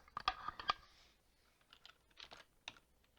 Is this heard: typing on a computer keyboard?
yes